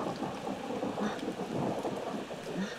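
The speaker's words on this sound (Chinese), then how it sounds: "打雷的啦！" Steady rain with a low rumble of thunder fills a scene in the horror video game Ao Oni, a dense unbroken wash of sound with no talking over it.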